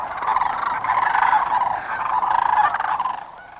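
A flock of cranes calling together, a dense, continuous chorus of rolling, bugling cries that swells and fades, loud and sustained without pauses.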